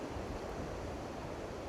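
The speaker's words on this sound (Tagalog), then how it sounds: "Since ang lakas ng alon, pero naliligo pa rin guys." Strong ocean waves on a Boracay beach, heard as a steady, broad roar of surf with wind, continuous and fairly near for the whole stretch, with no talk over it.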